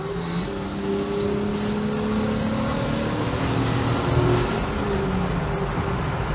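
A Vauxhall Senator B 3.0i CD automatic in sport mode kicks down a gear and pulls hard, its engine note rising steadily and droning loudly from inside the cabin.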